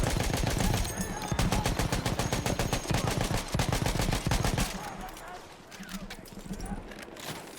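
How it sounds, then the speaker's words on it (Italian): Rapid bursts of automatic gunfire in the World War I shooter Battlefield 1, loud and continuous before easing off to scattered distant shots, with someone talking over the action. "Sparano dall'altra parte."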